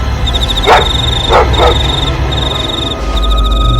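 A dog barks three times in quick succession, moderately near, over a steady background hum with a faint high-pitched electronic tone running through.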